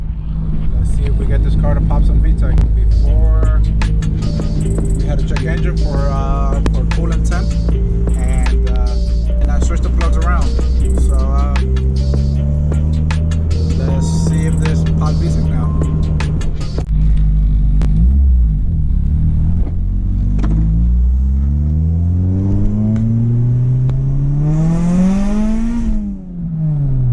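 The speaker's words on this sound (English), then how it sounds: "See if we get this car to pop some Vtec." Engine of a 2000 Honda Civic Si EM1 revving hard up into VTEC, the pitch climbing and falling through several sustained pulls, loud and close, with a sharp final rise near the end.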